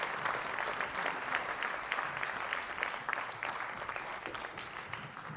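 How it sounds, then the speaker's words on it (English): Sustained applause from an audience at a South Asian arts festival in Bradford, many hands clapping steadily at a moderate distance, with no one speaking over it. "Another round of applause, please,"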